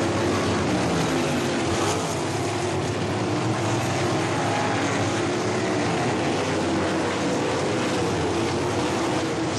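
Sprint cars racing at Ohsweken Speedway, heard from the turn 3 area: a dense, continuous roar of several engines, loud and unbroken throughout, with revving swells as the cars pass and slide through the turns.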